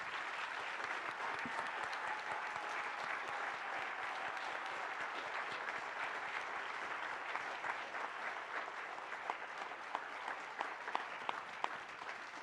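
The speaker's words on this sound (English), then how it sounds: "let's give them a round of applause." An audience at a special-election debate applauds the candidates on stage, steady dense clapping that holds throughout, with a few louder individual claps standing out toward the end.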